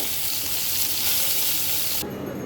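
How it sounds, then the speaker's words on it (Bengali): Spices and vegetables frying in a pan for a light fish curry with arum roots, a loud, dense sizzle with stirring that cuts off sharply near the end, leaving a quieter hiss. "এইবার আমি সব কিছু কয়েক মিনিট সুন্দর করে ভেজে নেব"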